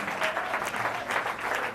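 A church congregation claps together during a Sunday prayer service, producing a steady, dense wash of applause for under two seconds with no speech over it.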